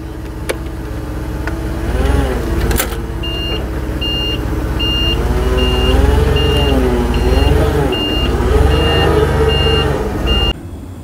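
A fork truck reversing, its backup alarm giving a regular series of evenly spaced high beeps over a loud rumbling engine idle, with a couple of sharp clanks early on.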